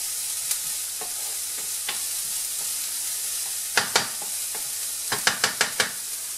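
Vegetables sweat in a pan while preparing stuffed butternut squash, a soft steady sizzle with scattered clicks and scraping taps of a utensil stirring, closer and quicker toward the end.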